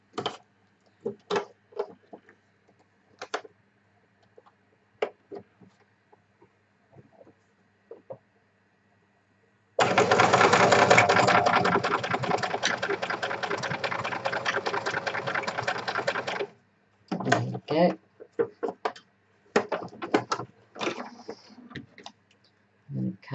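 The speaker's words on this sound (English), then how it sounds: "Now I've backstitched it so it won't open up front and back." A sewing machine stitches pretty fabric, backstitching at the start and end of a seam, with a steady loud whirring run of about seven seconds set between scattered quiet clicks and handling sounds.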